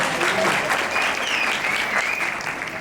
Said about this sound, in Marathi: जोरदार टाळ्या होऊन जाऊ द्या तुमच्यासाठी